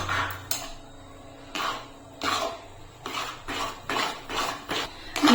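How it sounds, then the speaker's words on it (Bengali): A jackfruit-seed sandesh mixture with milk powder is stirred constantly in a pan, giving repeated scraping strokes of spoon on metal in a steady, close rhythm, with no talking. "অনবরত নেড়ে যেতে হবে, নাহলে নিচ থেকে লেগে যাবে"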